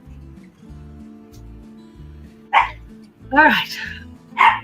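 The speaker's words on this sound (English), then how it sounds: "It'd be nice. You quit barking." A dog lets out three sharp barks, spaced apart, over a low rhythmic engine-like hum; a person says a couple of words.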